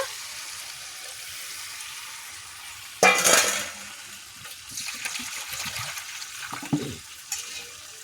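Water used to rinse ground ginger-garlic paste off a grinding stone is splashed into a pan of mutton curry, a sudden loud gush and sizzle. Quieter bubbling and stirring follow.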